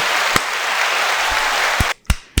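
Recorded crowd applause plays as a short clap sound effect during a comedy show, a dense wash of clapping with a few sharper hits. It cuts off abruptly near the end, leaving a couple of isolated thumps.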